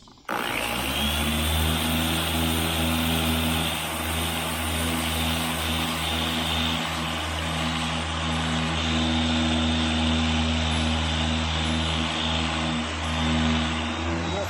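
A power sander grinding rusty paint off the steel roof of a 1977 Chevrolet Malibu, a loud continuous whirring hum that starts abruptly and holds steady throughout.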